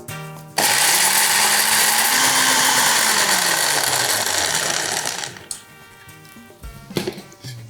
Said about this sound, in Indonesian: Kita ambil blender, yang pasti kita memakai dari Vicenza.